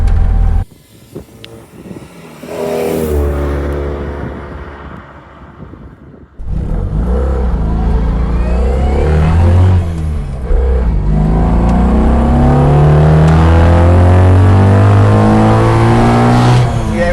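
A Citroën 2CV fitted with a BMW motorcycle engine accelerates hard on a back road, its engine rising through the revs in a loud, close, buzzy climb. A gear change drops the pitch before it pulls up again through rising sweeps.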